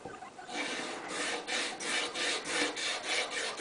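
Bark River sharpening compound rubbed onto a strop in repeated rhythmic back-and-forth scraping strokes, close and fairly quiet.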